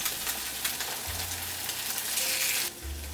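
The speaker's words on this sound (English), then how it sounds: "Flip the French toast over and let the other side cook for another 3 minutes" Coconut French toast fries in a pan after being flipped, a steady close hiss of sizzling with faint low hum underneath, no talking.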